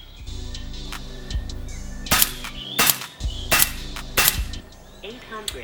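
An FX .177 air rifle fires slugs in four sharp, loud cracks spaced about a second apart, with a few lighter clicks before them and a steady background hum throughout.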